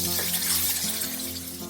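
Water is poured into a pan of roasting semolina halwa, a steady splashing gush with a sizzling edge that fades slightly toward the end, heard alone without talk.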